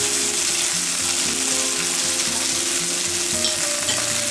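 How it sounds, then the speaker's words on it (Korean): Pollock jeon, Korean fish pancakes, frying in a pan, giving a steady, close sizzle and crackle of hot oil that holds throughout with no one talking. "맛있게 익어가는 소리가 네, 동네 사람 다 모이게 생겼고요"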